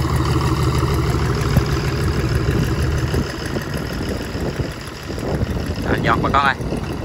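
A composite boat hull about 8.1 m long, powered by a turbocharged six-cylinder Detroit Diesel engine, rumbles steadily at low pitch during a test run, with a brief higher whine near the end.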